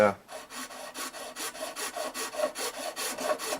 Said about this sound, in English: Proper nut file out for each gauge of string.